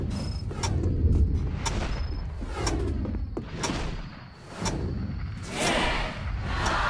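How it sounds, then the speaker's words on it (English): Repeated booms and sharp cracks from New Year's fireworks going off at a distance, irregularly spaced, with crackling bursts and a constant hiss between them. "I'm pretty sure they're the sound of fireworks."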